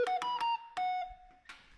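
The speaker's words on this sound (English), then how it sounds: "Vintage stylophone." Samsung notification melody played on a vintage stylophone: a short series of buzzy, reedy electronic notes, three quick ones then a held tone, close and alone, with a brief noisy tail.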